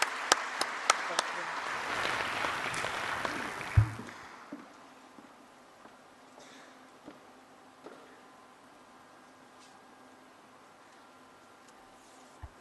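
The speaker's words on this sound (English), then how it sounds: "If we could please clap for them." A conference opening-ceremony audience claps for the co-conveners: dense, moderately distant applause fills the first four seconds, then stops abruptly, leaving a quiet room with a few faint scattered knocks.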